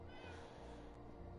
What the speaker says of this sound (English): Got some cats running around.